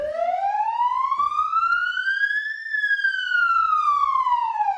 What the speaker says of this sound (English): there's a hugely loud siren which seems a lot louder when you're actually in here